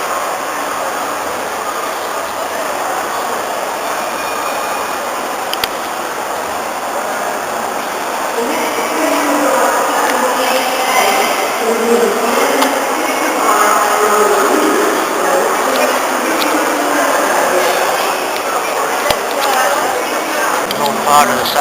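Trains on the drafty platform area of Birmingham New Street Station, a continuous low rumble of idling rolling stock with a steady hum, echoing station ambience, and someone talking over it throughout.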